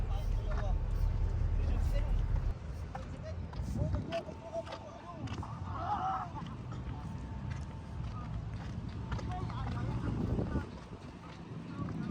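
Strong gusts buffet and rumble across the microphone in an open space at Rizal Park, steady and loud throughout, with faint background sounds beneath.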